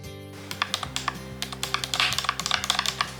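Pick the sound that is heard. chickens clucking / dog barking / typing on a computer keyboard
typing on a computer keyboard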